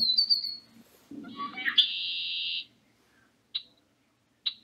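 A red-winged blackbird calls near a roadside in early spring, giving a harsh buzzy trill followed by a few short, sharp chip notes separated by quiet gaps.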